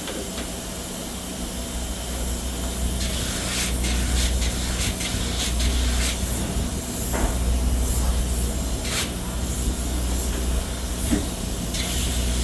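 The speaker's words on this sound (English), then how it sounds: "Today we are spraying the UPC HFO 2-pound foam." Steady, loud hiss of UPC HFO 2-pound spray foam insulation being applied on a building job site, continuous and close, with a low mechanical rumble underneath and occasional brief clicks and bursts from the spray rig.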